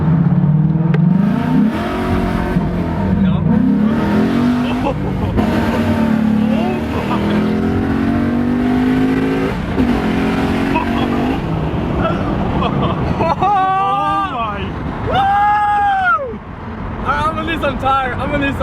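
A 2017 Ford Mustang launches hard in first gear, a loud engine roar climbing in revs with rising and falling sweeps under heavy wind and road rumble, while a driver talks excitedly.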